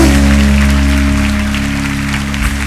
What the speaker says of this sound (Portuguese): Vamos aplaudir ao Senhor, que Ele merece.